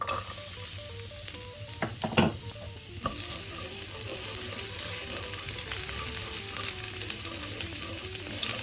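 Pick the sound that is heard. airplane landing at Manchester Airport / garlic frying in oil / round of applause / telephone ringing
garlic frying in oil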